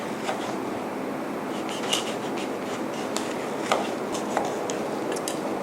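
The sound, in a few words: knife cutting through fish bones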